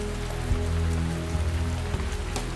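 Steady rain falls in a continuous hiss with dense patter on wet surfaces, soft and even throughout, with a few heavier drips standing out.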